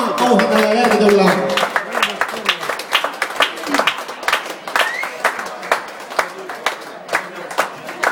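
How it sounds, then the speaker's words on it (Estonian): Audience clapping breaks out for a singer called to the stage for a prize at an Estonian song event, a loud burst at first that thins into scattered, distinct claps while an announcer talks over it. "Aplaus kestab, aplaus kestab"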